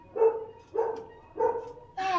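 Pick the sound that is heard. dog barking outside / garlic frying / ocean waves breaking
dog barking outside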